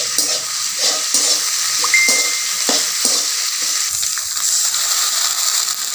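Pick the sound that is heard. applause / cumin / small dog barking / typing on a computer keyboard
cumin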